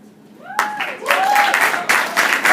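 Clapping, cheering and whistles burst from an audience after a poem at a live poetry set in a venue, starting abruptly after a quiet lead-in and continuing loud and dense with whoops layered on top.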